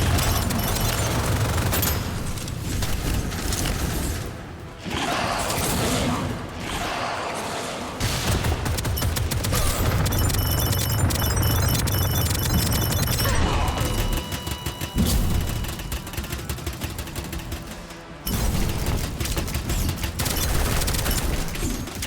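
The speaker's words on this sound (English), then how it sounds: "Hard to dodge while firing that minigun." Rapid sustained minigun fire in the video game Deadzone: Rogue, dense and loud with heavy thuds and crashes, mixed under game music and effects, cutting out briefly a few times.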